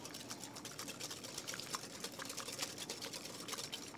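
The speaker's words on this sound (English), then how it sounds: "So whisk those." Egg yolks being whisked in a bowl for bacon ice cream: a steady, quiet, rapid ticking and swishing that runs continuously without pause and without any talk.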